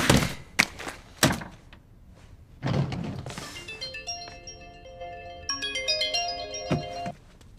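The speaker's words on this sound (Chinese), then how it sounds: "估计是老 K 家里人来电话了" A phone ringtone plays a repeated melodic pattern for several seconds after a few loud thumps and knocks, fairly close and clear, with no talking over it.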